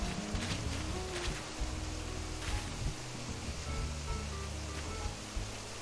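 Waterfall in the Animal Crossing video game, a continuous rushing wash of falling water at steady volume with no pauses and no talk over it.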